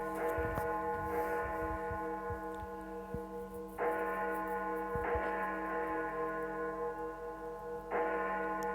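Harmonic bell-like ringing in a short film, swelling in repeated strikes at steady intervals and sustaining loudly between them, with faint low thumps beneath and no speech.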